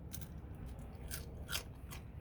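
Crunchy pizza crust, a classic non-stuffed style, being bitten and chewed up close, with several short crisp crunches spread across a quiet moment.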